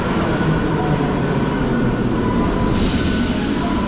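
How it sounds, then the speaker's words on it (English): A metro train at a subway station in Sofia, Bulgaria, rumbles steadily and loudly close by, with a hiss and a brightening metallic wheel edge toward the end. "So let's watch this subway come through."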